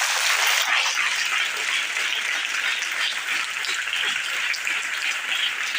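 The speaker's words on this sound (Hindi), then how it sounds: "तालियां जोर से बजाइए" Loud, dense applause from an audience at a Hindi Divas event, sustained and fairly close, runs evenly for about six seconds with no voices over it.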